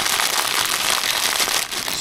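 A bag of oregano flowers squeezed and crinkled by hand in a kitchen, giving a continuous close, dry rustling and crackling for about two seconds with no talking.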